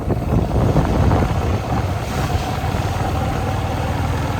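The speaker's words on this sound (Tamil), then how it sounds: "என்ன ஒரு காற்று" Strong wind buffets the microphone in a continuous low roar on a street in Kayalpatnam where rainwater has pooled, with no one speaking.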